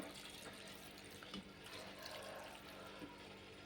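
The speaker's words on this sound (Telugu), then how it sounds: "ఇప్పుడు వీటిలోకి లైట్గా వాటర్ పోసుకోవాలి." Water from a tap runs lightly over cooked egg noodles in a home kitchen. It makes a soft, steady splashing that stays faint throughout, with a few small bumps.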